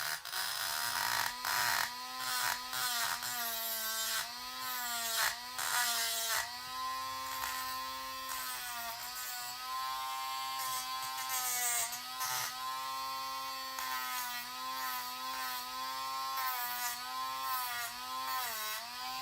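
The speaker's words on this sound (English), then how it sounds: "And you can sand. There you go. Sand this down." Power tool sanding down a broken piece from a Mezco action figure, a steady high-pitched motor whine with wavering pitch that runs continuously and fairly loud throughout, no talking.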